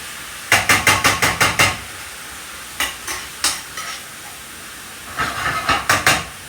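Ground meat browns in a hot pan at medium-high heat, heard as bursts of sharp sizzling scrapes from a spoon breaking it into small pieces, a quick run of strokes, a few scattered ones, then another run, with no talking.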